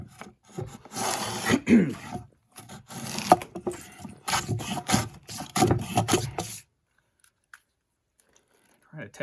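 Hand plane working the surface of a wooden hewing block, a series of close rasping strokes of uneven length that stop for the last few seconds, with someone talking between strokes.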